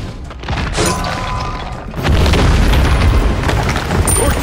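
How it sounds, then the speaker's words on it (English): An enemy tower collapses with an explosion in Smite during a ranked Conquest match, as Kuzenbo's team takes it down. A loud, heavy boom hits midway over ongoing game effects and keeps rumbling. "Your team has destroyed a middle enemy tower."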